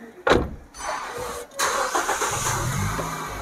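A used family car's engine starts after being switched off. The starter cranks briefly, the engine catches, and then it settles into a steady close idle with no talking.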